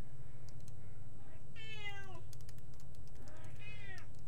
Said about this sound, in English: And now my cat has come in.